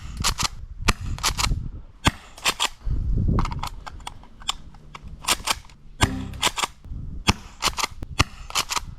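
A cheap airsoft shotgun set to fire six BBs per shot, gas-powered, snaps off a rapid series of sharp, loud bursts in irregular clusters, each crack followed by brief clatter and handling noise.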